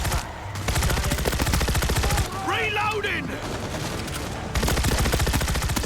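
An advanced SMG in the World War Z video game fires rapid, loud, sustained bursts with a short pause midway, each burst a dense stream of close shots.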